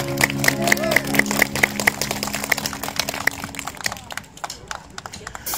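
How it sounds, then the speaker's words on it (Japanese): Audience at the 15th Sendai Gospel Festival applauds to welcome a gospel vocal group, a steady rapid patter of many hands, loud and close, with sustained tones beneath at first that fade after a few seconds. "大きな拍手でお迎えください"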